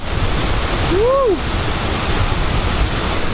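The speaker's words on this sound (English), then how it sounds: "Look at this gorgeous waterfall." A heavy waterfall in Guyana in rainy season, seen close to where it drops, roars as a loud, steady broadband rush throughout, with a brief rising-and-falling voice-like call near the start.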